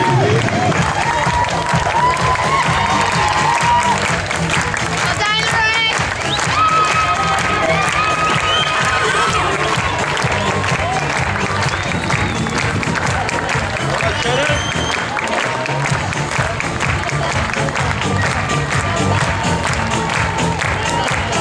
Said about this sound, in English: Is everybody ready in the crowd for lap of honor?